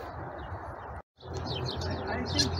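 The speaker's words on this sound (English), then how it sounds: "Starlings are birds that make a chirping sound." Starlings chirping in the open, with dense high twittering calls close by, a brief cut of silence, then more busy chirps over a low background hum.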